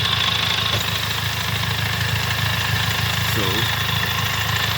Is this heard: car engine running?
yes